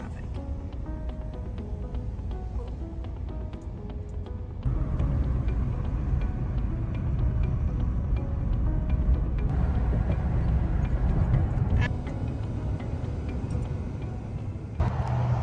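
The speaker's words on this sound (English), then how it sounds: "Look at that traffic." Steady low road-traffic rumble of cars and heavier vehicles, heard from a Harley trike on the road toward a Savannah dealership, growing louder and denser partway through, with faint voice-like sounds mixed in.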